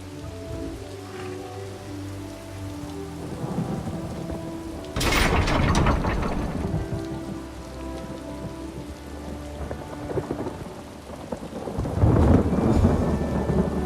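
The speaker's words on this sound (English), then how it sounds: "Shouldn't the storm be growing weaker?" A fierce thunderstorm in The Elder Scrolls Online, with heavy rain hissing throughout and two loud thunder crashes breaking through, one near the middle and one toward the end, with no voices.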